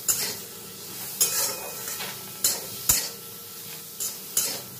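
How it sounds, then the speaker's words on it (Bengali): Broken cashews and spices are dry-roasted in a pan, a soft sizzle broken by about six sharp, rhythmic scrapes of a spoon stirring against the metal, close up and without talking. "আমি ভেঙে রাখা কাজুটা অ্যাড করে দেব, দিয়ে সব কিছু শুকনো খোলায় একটু হালকা করে ভাজা ভাজা করে নেব"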